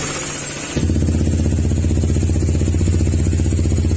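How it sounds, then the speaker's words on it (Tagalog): A Honda ADV160 scooter engine idles quietly and steadily after starting up partway through, a low even purr close by with no talk. "tahimik yung makina niya"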